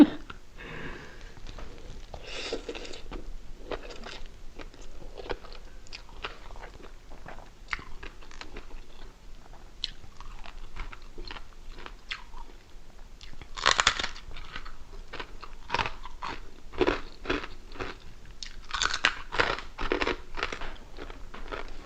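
Close, crunchy chewing and biting on a meal of khanom jeen rice noodles with spicy som tam papaya salad and crispy pork, in irregular bursts of crunching with no speech.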